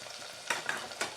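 Turmeric, Kashmiri chilli powder and coriander-cumin powder fry softly in a pan as a spoon stirs with three quick scraping strokes, close and quiet, no voices.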